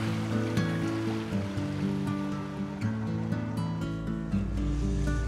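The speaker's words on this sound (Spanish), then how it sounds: "Te invito a dar una vueltecita en la lancha de mi hermano" A small motor launch runs on the sea off Tenaún, Chiloé, Chile, its engine drone steady and close under continuous rushing water and splashing against the hull, with a deeper surge near the end.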